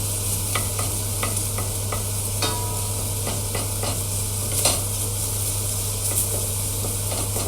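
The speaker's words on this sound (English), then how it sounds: "So, this has just started to soften these onions up now." A pan of onions sizzles steadily as they soften, a dense close hiss of frying broken by soft stirring scrapes and light taps of a spoon against the pan, with no voices.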